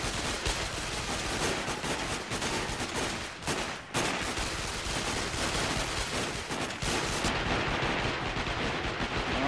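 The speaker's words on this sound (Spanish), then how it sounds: "¿Qué carajo me dispara?" Dense, continuous gunfire from enemies shooting at the player in the video game Sniper Ghost Warrior, loud and close, with rapid overlapping shots barely pausing around the four-second mark before carrying on.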